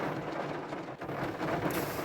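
Heavy rain pours down steadily in a dark, windy downpour, a dense continuous wash of noise close by with no talking.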